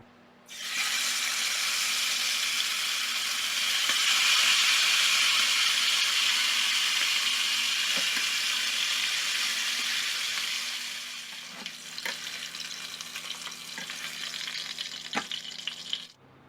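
Chicken fries in a pan with a loud, continuous sizzle, steady for several seconds before easing into a quieter crackle with a few light clicks.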